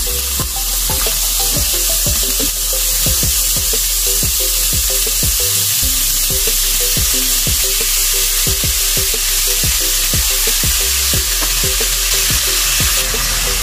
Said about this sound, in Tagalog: Then ipa-fry muna natin yung ating minarinate na overnight na pork.